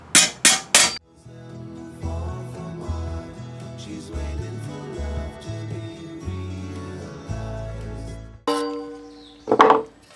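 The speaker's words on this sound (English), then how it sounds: "all I do is I just kind of tap it all flat down real nice" Three quick, sharp taps of a small tack hammer flattening metal, then more tapping near the end, with soft background music playing in between.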